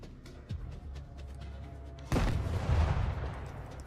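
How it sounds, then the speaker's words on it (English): Grenade explosions in S.T.A.L.K.E.R. 2, a sudden loud close blast after a dull thump, followed by a rumbling, crackling tail over faint background ambience. "People are throwing fucking grenades at me again."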